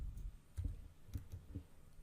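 Typing on a computer keyboard into a web browser address bar, with a few soft, quiet clicks spaced irregularly over about two seconds and no talk.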